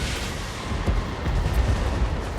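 Great cannon artillery booming in a Total War: Warhammer battle, a loud, dense rumble of heavy low blasts rolling continuously through the short stretch with no voices.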